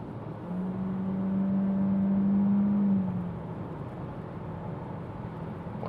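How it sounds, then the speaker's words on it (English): 2022 Nissan Qashqai with a small engine accelerating from 100 km/h, a rising drone from inside the cabin that swells for a few seconds and then fades back into steady road noise. "Now from 100 kilometers an hour,"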